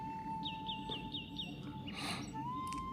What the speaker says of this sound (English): This is a mockingbird.